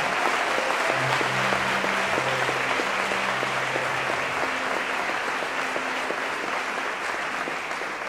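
Congregation clapping in a church during a sermon, a dense, steady wash of applause throughout with faint musical tones underneath.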